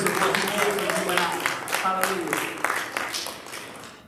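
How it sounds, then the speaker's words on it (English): A church congregation clapping hands in praise, a steady patter of many hands mixed with voices and shouts, loud and sustained, tapering off slightly toward the end. "would you give Jesus a hand clap of praise because of what He did for you and I?"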